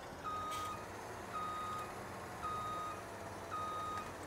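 A John Deere combine harvester in Farming Simulator 17 sounds its reversing alarm: four evenly spaced electronic beeps about a second apart over a low, steady engine hum.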